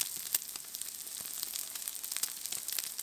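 Cabbage and tuna pancake batter frying in coconut oil in a pan over medium-low heat, a steady close hiss and crackle of sizzling with small pops throughout.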